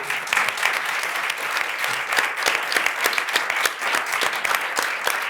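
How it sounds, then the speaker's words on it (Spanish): A crowd applauds steadily, many hands clapping at once in a dense, continuous burst that holds for several seconds. "Un aplauso, por favor"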